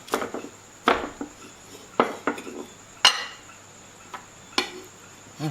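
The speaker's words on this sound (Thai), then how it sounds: "ตอนนี้จะหั่นหมู" A knife chops through crispy fried pork belly on a board, with sharp crunchy strikes about once a second, close and fairly faint, and light clinks between them.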